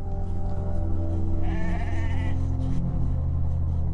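Sheep in the New Zealand wild give a single drawn-out bleat near the middle, heard over a continuous low, humming background.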